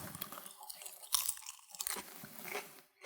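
Someone chews a crunchy fresh pea pod from a mint pea salad dressed with lemon vinaigrette, giving close, crisp bites and wet crunches in short bursts.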